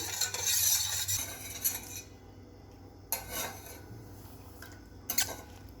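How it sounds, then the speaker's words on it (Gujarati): Spoon scraping and clinking against a pot while saffron milk and sugar are stirred together for thandai, with a few sharp metallic taps between quieter rubbing strokes, close and fairly soft. "એને હલાવી અને ખાંડ ઓગળે ત્યાં સુધીને એને હલાવતા રહેવું"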